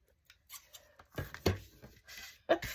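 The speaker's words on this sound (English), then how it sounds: "I'll grab my scissors" Scissors snip a paper circle for a small handmade journal in a quiet room, giving a few separate, close, crisp cuts spaced irregularly with short pauses between them.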